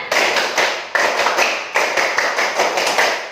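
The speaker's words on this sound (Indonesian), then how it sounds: "Kalau Ibu bilang tepuk semangat, kita semua tepuk tangannya yang semangat." A classroom of pupils claps the rhythmic 'tepuk semangat' pattern together, crisp group handclaps falling in short, evenly spaced bursts with brief pauses between each phrase, loud and close.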